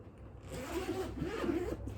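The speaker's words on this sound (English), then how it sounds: "find the zippers first and then unzip the case" A single slow zipper pull on a violin case, steady and close, drawn out over a couple of seconds with a faint rasping texture.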